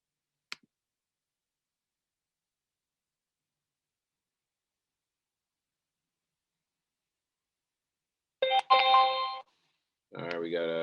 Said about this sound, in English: we got notifications